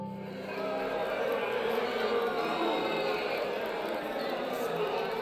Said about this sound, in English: The crowd was growing rowdier.